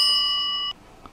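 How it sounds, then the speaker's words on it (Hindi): A bright bell rings once in a Minecraft game with a clear, sustained metallic tone that stops abruptly, followed by near silence with a faint tap. "अभी वो घंटी की आवाज आ रही है"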